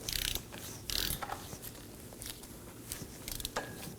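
A ratchet wrench loosening 17mm caliper bracket bolts on a 2020 or later Toyota Corolla during front wheel bearing work, giving close, loud bursts of rapid clicking separated by brief pauses, with workshop noise underneath.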